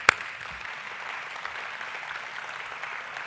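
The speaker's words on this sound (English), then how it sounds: "I want to give Brad Hooper a round of applause." An audience at a university athletics Hall of Fame ceremony applauds an inducted coach, with steady moderate clapping after a sharp thump at the start.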